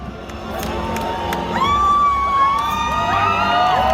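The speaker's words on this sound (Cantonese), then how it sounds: "我哋以最熱烈嘅掌聲同埋歡呼聲歡送我哋嘅甄子丹先生" A crowd at a movie launch event in Pavilion KL cheers and screams to see off Donnie Yen, with high-pitched shrieks and whoops rising over a loud, sustained roar of applause, close and building.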